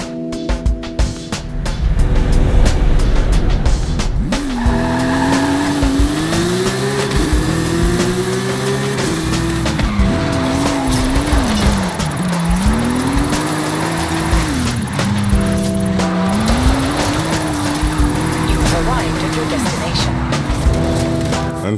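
A car drifting through a drift zone in Forza Horizon 5, its engine revving in repeated rising and falling sweeps as it slides, loud and steady, with a voice talking over it.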